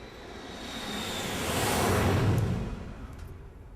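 A jet airplane sample doubled with a slightly offset copy on a Korg OASYS, giving a swelling flanged whoosh that rises to a peak midway and fades, with no voices.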